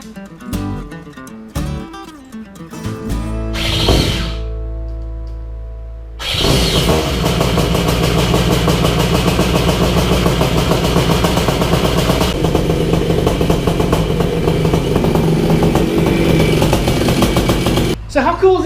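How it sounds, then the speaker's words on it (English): An aircraft engine is cranked and fires up after an exhaust repair, with starter whine and sputters before catching, then settling into a loud, steady close-range running roar that stops near the end. "let's put this thing on the back, fire it up, put a little heat in this thing, see if I can hear anything"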